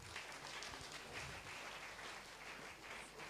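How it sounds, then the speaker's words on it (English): A church congregation applauds at a Sunday worship service, a steady dense wash of many hands clapping that fills the room evenly from start to finish with no voices breaking through. "a round of applause for them"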